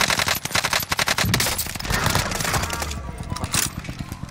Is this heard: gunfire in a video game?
yes